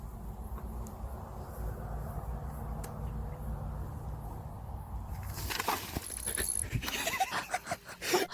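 A dog playing in a video heard over a steady room background, with faint whimpering and panting sounds that grow busier and louder toward the end.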